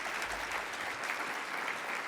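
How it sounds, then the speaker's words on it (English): An audience at a college health and human sciences scholarship brunch applauds faculty, a dense, even wash of clapping from many hands that holds steady for about two seconds. "give them a round of applause."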